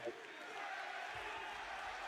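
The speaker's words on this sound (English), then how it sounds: "The roar of the crowd." A wrestling crowd at an NXT event roars steadily as wrestlers enter the ring, a dense, continuous wash of cheering and noise that holds level throughout.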